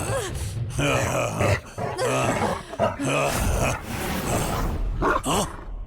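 A dog growls and snarls in low, rough bursts that run nearly continuously, loud and close, with brief gaps between rumbling grunts.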